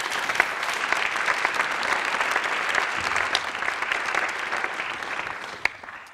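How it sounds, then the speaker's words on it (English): Audience at an award ceremony applauds warmly as the honorees come to the stage, steady dense clapping throughout that fades slightly toward the end. "give them a warm applause"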